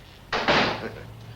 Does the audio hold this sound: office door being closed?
yes